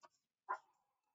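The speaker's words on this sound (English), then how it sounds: "do pardon the noisy dogs." Dogs give two short, faint barks, one yip and then a slightly stronger bark with a brief ringing tail, in otherwise quiet surroundings.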